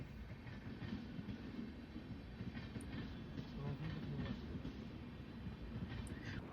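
A train passes at a railway level crossing during a night road trip toward Delhi, a steady rumbling roar with faint rhythmic clatter and occasional brief high squeals, heard from moderately close and quite quiet overall.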